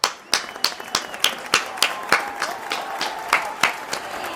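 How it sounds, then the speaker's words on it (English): A single person claps hands in a steady rhythm, roughly three claps per second, close and fairly loud, with no other sound around it. "Let's clap it up."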